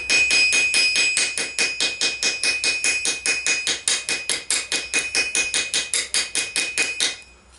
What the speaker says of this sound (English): I'm just using a nail for speed, get a nice rivet head on the front there